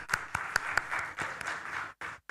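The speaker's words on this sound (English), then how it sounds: "Ladies and gentlemen, requesting a big round of applause," A faint, scattered round of applause at a conference, a handful of separate claps spaced out at the start, blurring into a thin patter before stopping with short gaps.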